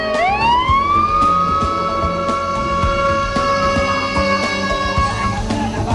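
Fire truck siren of responding firefighters at a night market fire in Estancia, Iloilo, a loud rising wail that settles into a steady held tone, close and continuous for several seconds amid faint crowd and street noise.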